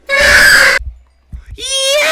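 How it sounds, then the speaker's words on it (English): A person lets out two loud, sustained screams while playing Minecraft, the first held for nearly a second, then a brief gasp, then a second rising wail. "Think it's time to scream now?"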